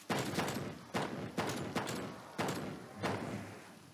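A shotgun in the Call of Duty Black Ops zombies game on the Kowloon custom map fires six loud, booming blasts in quick succession, each with a short decaying tail.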